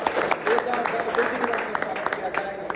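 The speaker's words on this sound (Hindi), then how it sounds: "जोरदार तालियों के साथ" Clapping breaks out at an award presentation during a bench press championship at Robin Fitness Gym, a brisk patter of claps from a small crowd heard under a man's continuing speech.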